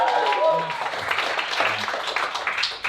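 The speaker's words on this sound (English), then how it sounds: "Clap it up for that guy." Comedy club audience applauding a stand-up comic, a dense wash of claps that stays steady across the whole stretch, with some faint crowd voices mixed in.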